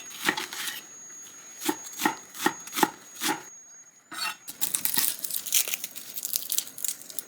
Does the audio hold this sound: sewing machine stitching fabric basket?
no